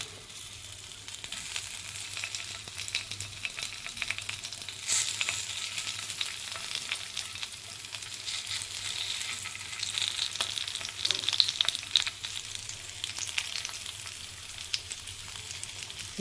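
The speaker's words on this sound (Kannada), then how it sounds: "ಇದು ಒಂದು 2 ನಿಮಿಷದ ಕಾಲ ಚೆನ್ನಾಗಿ ಫ್ರೈ ಆಗಿ ಕೆಳಗೆ" Stuffed green chillies, Karnataka style, frying in oil on a low flame give a steady, soft sizzle with faint crackles that swell slightly midway, heard alone with no talk.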